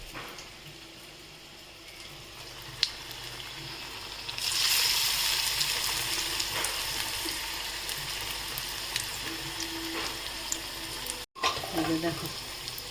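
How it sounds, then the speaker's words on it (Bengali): Spinach fritters (bora) frying in hot oil, a steady sizzle that swells louder partway through as more batter goes into the pan, with occasional clinks of a utensil. "তেলটা গরম হয়ে গেছে, এবার আমি বড়াগুলোকে ভেজে নিচ্ছি।"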